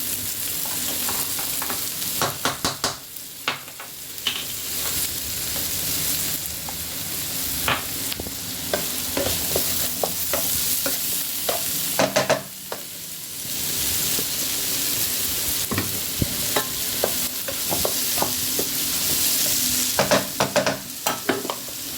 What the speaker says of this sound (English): So I can just stir it a bit.